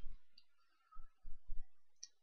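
A few soft, quiet computer mouse clicks, spaced apart, as a user clicks on a profile in a Google Apps admin screen, with a low thump or two in between and no talking.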